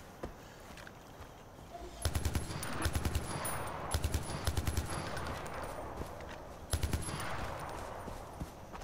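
Far Cry 4 gunfire: several short bursts of rapid automatic shots, loud and close, with quieter game ambience in between and no talk.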